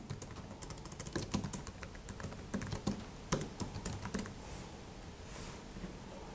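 Keys clatter on a computer keyboard while a project name is typed into App Inventor for a Bluetooth chat app, with irregular close clicks in short bursts that fade toward the end, no talking.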